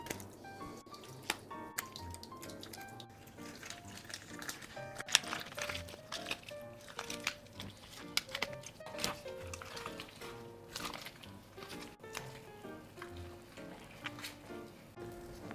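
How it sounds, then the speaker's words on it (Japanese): A parrotfish being scaled after hot water is poured over it, with wet, squishy scraping and dripping sounds that come in uneven bursts over steady background music. "そしたら鱗を剥がしていきましょう。"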